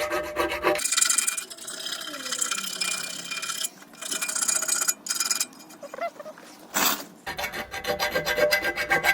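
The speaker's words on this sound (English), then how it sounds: "I got a smaller file here, so this should work better. Just clean up any burrs so the new bushing can press in easily." Small hand file rasping burrs off a subframe bushing bore on a Nissan S14, steady close scraping strokes in repeated bursts with short pauses between.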